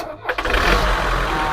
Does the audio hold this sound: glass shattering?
no